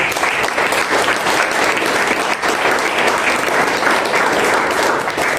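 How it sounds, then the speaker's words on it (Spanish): Congregation in a church clapping, a dense, steady burst of loud applause from many hands that fills the whole stretch without pause. "Dale un aplauso a Dios."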